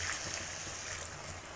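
Water poured into a pot of village-style chicken curry with sautéed onion, tomato, chili powder and salt, a brief steady splashing gush heard alone.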